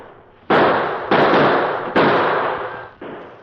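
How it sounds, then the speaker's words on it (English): Gunshot sound effects for a musket and revolver in a Western radio drama: four sharp, loud reports, each ringing out with a long decaying tail before the next, with no voices over them. "The addition of Kit Carson's musket to the Lone Ranger's well-placed gunfire soon had a telling effect."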